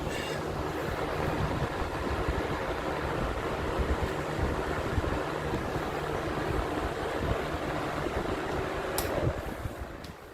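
Steady, loud rush of wind from a high velocity fan fitted with a swapped blade, a broad continuous whoosh with a low hum running unbroken throughout, alone without talk.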